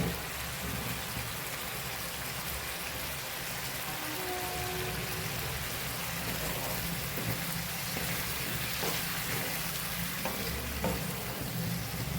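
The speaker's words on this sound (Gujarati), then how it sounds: "ગોળને સરસ આપણે મિક્સ કરી દેવાનું છે।" Jaggery with a little hot water stirred in a pan for a raw mango curry, a constant soft sizzling hiss with scattered scraping stirs, steady and close throughout.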